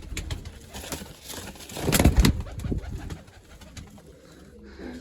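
Pigeons in a loft cooing softly, with scattered low coos and a louder burst of cooing and fluttering around the middle, otherwise fairly quiet.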